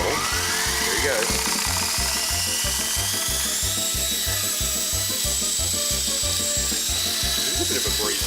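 RC helicopter spooling up to lift off from a homemade helipad at night outdoors: a loud, close, rapid rotor chop pulses steadily under a rising high motor whine, continuous throughout.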